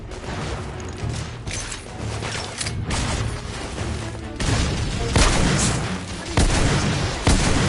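In a PS4 shooter, gunfire rattles in sharp bursts over a dense, noisy battle mix, with heavier booming volleys growing louder toward the end.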